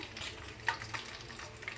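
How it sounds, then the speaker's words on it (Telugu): Mustard seeds hit hot oil in a tempering pan for eggplant tamarind stew, giving a soft, steady crackle and sizzle with a few small pops. "ఇదిగోండి కొన్ని ఆవాలు వేస్తున్నా,"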